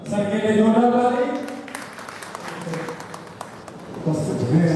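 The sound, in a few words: audience applause at school alumni reunion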